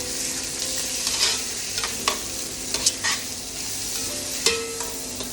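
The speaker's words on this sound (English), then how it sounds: "I'm going to mix this all up into a nice smooth paste." Crushed date palm sugar is stirred into a smooth paste for pad thai, a steady close scraping and stirring with occasional sharper clicks of the utensil against the bowl, with no talking.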